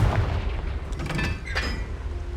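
Confringo fire spell blasting in Hogwarts Legacy, a short booming burst with a crackling flare partway through, set against steady low game rumble.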